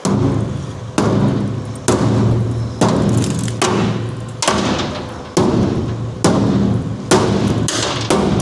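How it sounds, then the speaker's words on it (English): Lug nuts drop one after another onto a hard surface, about nine separate dull thuds spaced under a second apart, each with a short ringing tail, close and fairly loud. "Dropping lug nut after lug nut."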